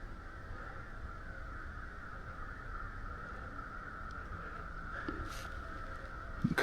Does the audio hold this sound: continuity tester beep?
no